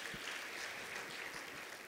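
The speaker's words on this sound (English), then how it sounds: "Let's give a round of applause" An audience at a women's health and wellness event applauds, a brief faint patter of clapping heard from a distance.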